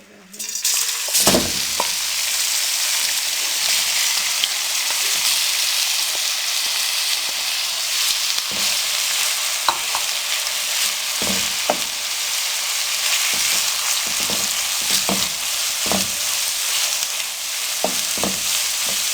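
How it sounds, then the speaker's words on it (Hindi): Chopped onions fry in hot cooking oil in a kadai, a loud, steady sizzle close by, with occasional spatula scrapes and knocks against the pan throughout. "अब इसमें हम चॉप किए हुए प्याज डाल देंगे"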